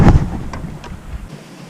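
Wind buffets a microphone by a Florida shoreline while fishing, making a loud low rumble that fades slightly, with a couple of faint taps and no voices.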